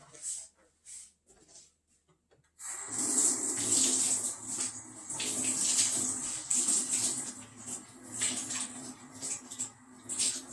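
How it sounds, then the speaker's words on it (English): Hands being washed under a running tap, a steady splashing water stream that starts a few seconds in after near silence and continues loudly to the end. "Let me give my hand a quick wash."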